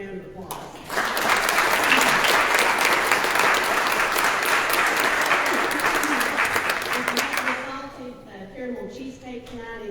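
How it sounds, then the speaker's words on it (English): An audience at a Lincoln Day dinner bursts into a loud, sustained round of applause lasting several seconds before fading into murmuring talk. "let's give them a big round of applause"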